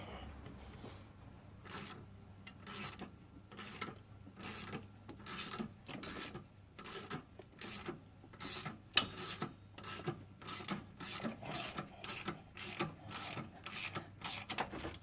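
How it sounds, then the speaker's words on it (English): A ratchet wrench cranks out the crank pulley bolt on a 2006 Cadillac CTS 2.8L, making a steady series of close, rasping clicks, one burst after another, with no talking. "So we got just a couple more cranks left and this should be out."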